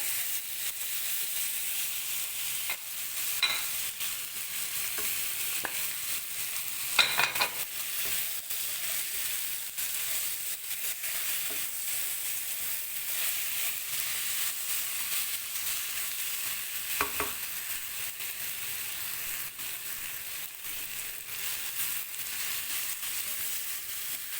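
Raw mango pieces stir-fried with whole spices in a pan for aam ki launji, a continuous soft sizzle broken by a few scraping stirs, close and fairly quiet with no speech.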